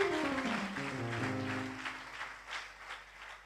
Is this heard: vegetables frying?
no